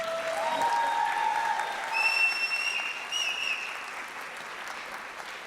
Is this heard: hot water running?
no